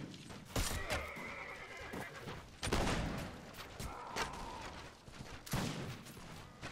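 A horse whinnies in the Mount & Blade video game, several loud neighs amid a battle with gunfire and hoofbeats, nearby and clear, with little talk.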